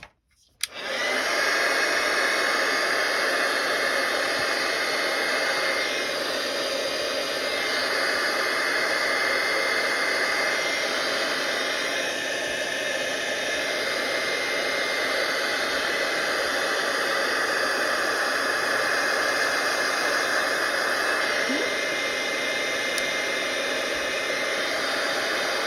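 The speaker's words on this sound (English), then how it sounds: "And I'm going to dry it with the heat tool." A heat tool blows steadily to dry ink on a paper card, a loud, close, continuous whooshing roar that starts abruptly and runs unbroken with no talking.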